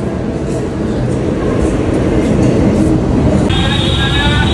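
A metro train at a Delhi Metro station gives a loud, steady rumble and rattle throughout, with a high steady squeal of wheels or brakes appearing near the end.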